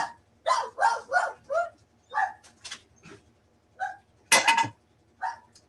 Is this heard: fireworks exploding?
no